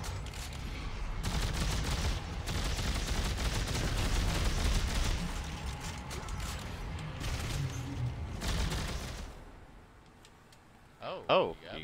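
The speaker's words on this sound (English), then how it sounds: "Are we actually shooting each other?" Gunfire in the video game Dead Space 3 rattles in dense, repeated bursts over several seconds, then fades out near the end, with players talking over the shooting.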